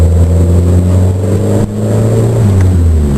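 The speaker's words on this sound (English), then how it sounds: "see if we can spin the tires here" The 4-cylinder engine of a Ford Mustang revs hard and loud at close range in a bid to spin the tires, holding a steady drone with a brief dip midway before climbing again.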